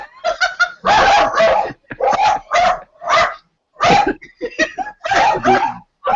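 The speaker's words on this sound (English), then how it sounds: "Do I hear 3 dogs, or is that 1 dog in an echo chamber?" Several dogs bark loudly in rapid, echoing bursts, the yaps overlapping and clustered with brief gaps, close and sharp in a converted patio office.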